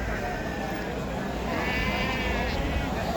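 Sheep and lambs bleat at a livestock market in Istaravshan, with several overlapping calls over a busy background murmur and people talking nearby.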